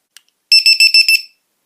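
A LiPo battery checker gives a quick run of five loud, bright electronic beeps right after a faint click, close and alone in silence.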